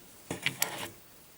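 An e-cigarette clearomizer is screwed onto its battery with a short burst of small ratcheting, rubbing clicks close by, lasting about half a second.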